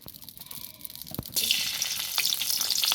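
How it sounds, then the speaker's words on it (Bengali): Chopped onion and garlic drop into hot oil in a pan for a crab curry, a soft clink followed by a steady bright sizzle that holds loud to the end. "কিছুটা পেঁয়াজ দিলাম, কিছুটা রসুন দিলাম"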